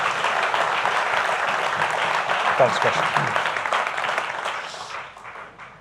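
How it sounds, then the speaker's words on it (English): Audience applause at a Capitec BizTalk business event, a steady wash of clapping that holds for several seconds and tapers off near the end, with a voice speaking over it. "Round of applause, please."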